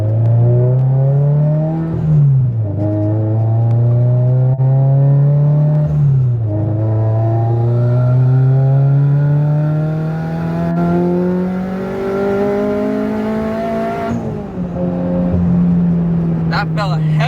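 Turbocharged Subaru BRZ on a dyno, running about 10 psi of boost, revving hard through rising gears in a loud, sustained engine pull with brief dips at each shift, close and continuous for the whole stretch.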